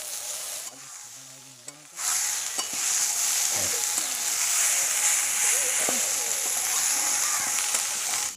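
Sliced onion and tomatoes fry in a pan for a village-style Bengali khalshe fish dish. A loud, continuous sizzle erupts and carries on close by, with a few scraping stirs, after a brief quiet voice at the start.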